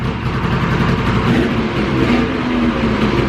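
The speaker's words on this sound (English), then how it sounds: "A little tired, but she's running." A tired, long-abandoned Ski-Doo Touring snowmobile engine runs on full choke, a steady close, loud mid-pitched buzzing drone with slight rises and no talk.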